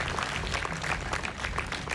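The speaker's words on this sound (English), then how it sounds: "Give Tom Dolan a big round of applause for finishing 6th place" Audience at a Bassmaster fishing tournament on the Potomac River clapping for a sixth-place angler, a steady dense patter of many hands held evenly for two seconds.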